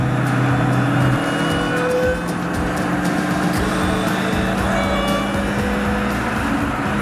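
A 2021 Dodge Charger SRT Hellcat Redeye Widebody drives with a steady, dense engine drone and a thin supercharger whine riding above it, heard continuously from inside the car.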